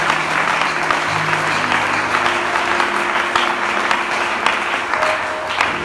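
A church congregation in Congo applauds the Lord, sustained dense clapping filling the room at even loudness for several seconds, with faint voices mixed in.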